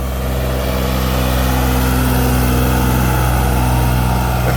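A steady, loud New Holland 3630 tractor engine runs continuously at a constant idle-like rumble under a power test, with no pauses, close by and alone without talk.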